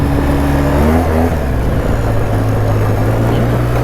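A 2012 Polaris Sportsman 800 EFI ATV with a freshly rebuilt top end revs and pulls under load on a test drive, loud and close, its engine note rising and falling as it shifts, with no voices.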